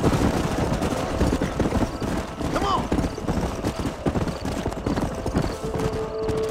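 Horses galloping in the video game Red Dead Redemption: a rapid, continuous clip-clop of several sets of hooves with a brief whinny, running steadily beneath a voice.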